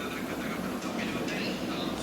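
A train in the Roblox game Brookhaven gives off a steady, loud rumbling hum with a hissing, airy top, continuous and unbroken for the whole moment.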